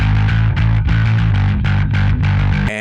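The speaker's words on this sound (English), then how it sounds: "here's the alpha sound, characterized as a tight distortion." An electric bass runs through a Darkglass Electronics Alpha Omicron pedal on its tight distortion setting, playing a loud, dense, driving riff with sharp repeated note attacks, alone with no talk.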